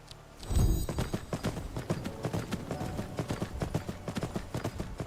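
Horse hooves clip-clopping in the Skyrim video game, a quick steady rhythm of close, crisp hoofbeats after a brief thud, with a faint whinny-like tone and no clear talk.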